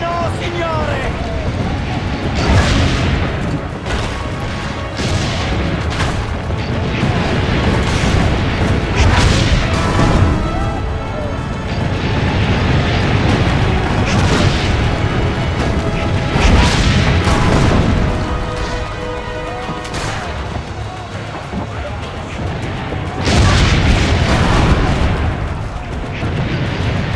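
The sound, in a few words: cannon fire, video game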